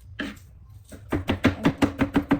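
Garlic and onion being chopped on a board, a steady run of about eight crisp, close knife strikes that speed into an even rhythm after a few scattered taps.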